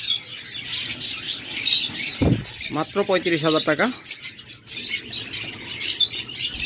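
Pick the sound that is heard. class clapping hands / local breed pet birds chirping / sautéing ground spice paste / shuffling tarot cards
local breed pet birds chirping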